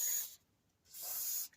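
GT85 spray lubricant sprayed onto bolts on a Mk3 Ford Cortina Estate, two close hissing bursts separated by a short pause.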